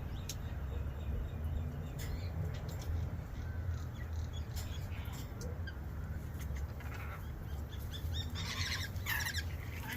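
Aviary birds chirp while being caught for leg bands, giving sharp, high tweets and calls that come in scattered bursts over a constant background hiss. The calls grow busier toward the end.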